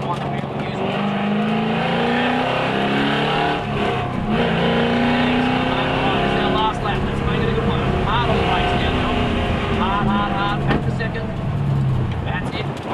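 A V8 Supercar engine roars loudly on a race track, pitch climbing repeatedly through the gears as it accelerates, with a driving coach talking over the steady engine noise.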